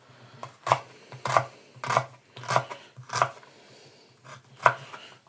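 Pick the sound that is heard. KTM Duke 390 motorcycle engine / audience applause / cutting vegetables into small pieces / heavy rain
cutting vegetables into small pieces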